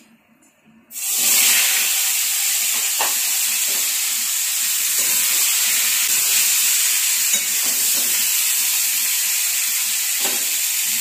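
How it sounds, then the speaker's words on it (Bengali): Fresh vegetables drop into hot oil over fried tempering spices for a sour Bengali fish curry, setting off a sudden loud, steady sizzle and hiss that stays close and continuous, with faint scrapes of stirring and no talk. "এবার দিয়ে দেব সবজিগুলো।"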